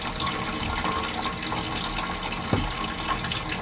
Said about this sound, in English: Go on then, turn it on now.